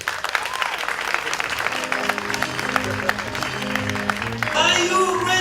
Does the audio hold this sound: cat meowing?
no